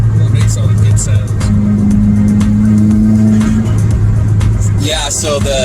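A tuned 2017 Subaru WRX engine drones loudly and steadily from inside the car, with a sustained rev and someone talking over it toward the end.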